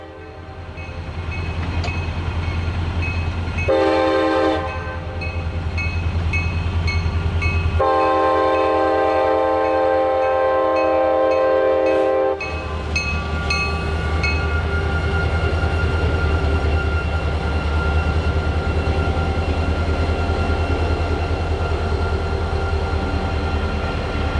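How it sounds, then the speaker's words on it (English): A CSX welded rail train led by a single EMD SD40-2 diesel locomotive passes close by, its engine droning steadily with rail car rumble and a loud horn sounding in two long blasts partway through. "The welded rail train was powered by a single SD40-2, CSX 8060, which was built by EMD for the Family Line system in August 1979."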